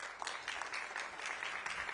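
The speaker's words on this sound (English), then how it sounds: "let's give Zoisa another round of applause." An audience at a UK government global partnerships conference breaks into applause, a faint, even patter of many hands clapping heard from a distance.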